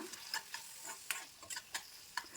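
Squid masala with tomato being sautéed in a pan makes a faint sizzle, broken by quick, regular clinks and scrapes of a spoon stirring close by.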